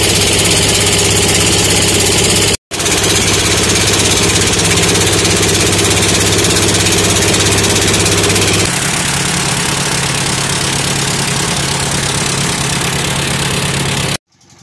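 A small passenger boat's engine drones loudly and steadily nearby, cutting out briefly once and then continuing with a slightly lower, rougher tone before stopping at the end.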